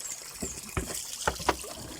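Water flowing and trickling at an outdoor water-fetching spot, with a steady liquid wash punctuated by a few brief splashy bursts, fairly close.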